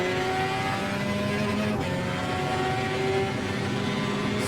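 Race car driven in the Automobilista sim racing game: a steady engine drone with tonal harmonics runs continuously and evenly at moderate loudness, with no voices over it.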